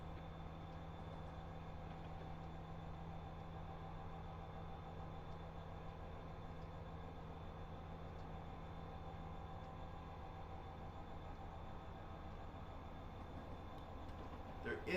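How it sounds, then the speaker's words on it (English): A freight train rolls through Cajon Pass in California, a steady low rumble and hum heard from inside a moving vehicle, constant and moderately faint throughout. "Another train coming along."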